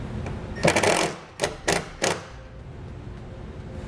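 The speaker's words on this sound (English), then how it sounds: "Just grab a 5/16 socket and we can go directly into the body right here." A drill spins a self-tapping screw with a 5/16 socket into vehicle body sheet metal, giving a close, harsh whirring burst followed by three shorter buzzing pulses as the screw seats, over faint background hiss.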